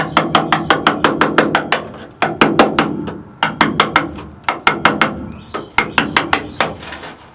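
A hammer knocks old body putty off the rusted metal of a Ford F100 pickup in quick, loud, sharp blows, falling in bursts of several strikes with short pauses between.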